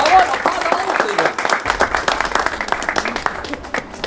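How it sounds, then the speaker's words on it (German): A crowd at a rap competition claps and cheers in a steady burst, with scattered whoops under someone talking loudly over it. "Applaus ein bisschen für Ammo, jawohl, Applaus auch"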